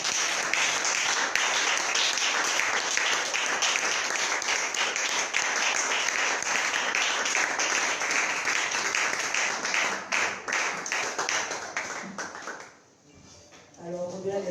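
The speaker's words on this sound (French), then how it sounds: "est-ce que tu peux commencer à acclamer le Seigneur?" A church congregation at a midnight conference cheers and applauds the Lord with a sustained roar of clapping and shouting that carries on loudly for several seconds, then dips briefly and swells again.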